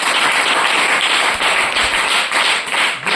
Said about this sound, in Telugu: కొట్టని చప్పట్లు గట్టిగా